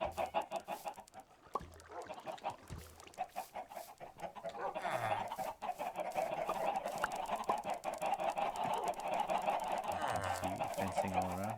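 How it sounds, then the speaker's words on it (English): A flock of Minecraft video game chickens clucks and squawks continuously, getting louder and busier partway through, with no one talking. "That sound you hear is chickens."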